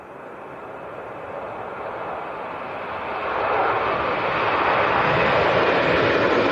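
A broad jet roar builds steadily and grows louder as a Jet2 airliner passes close overhead at Leeds Bradford Airport, with no talking.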